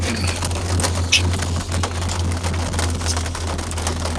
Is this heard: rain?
yes